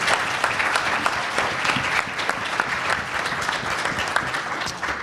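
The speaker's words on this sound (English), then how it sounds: "So if we can please give them a round of applause." An audience applauds at the close of an architecture and design lecture at Lawrence Tech: dense, steady clapping that holds at an even level throughout, with no voices over it.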